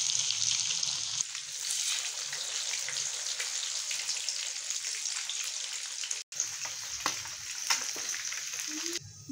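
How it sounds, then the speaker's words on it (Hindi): Besan-coated fish pieces frying one by one in hot oil, giving a steady bright crackling hiss with faint drips and pops and a brief break partway through. "और इसी तरीके से हम लोग 1 बाय 1 जो है ना उठाएँगे और उसको फ्राई करेंगे"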